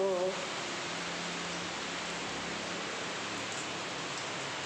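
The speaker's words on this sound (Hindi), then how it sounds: "बारिश देखो कितनी तेज़ हो रही है" A brief voice at the very start, then a steady, even hiss of heavy rain falling, fairly soft and constant.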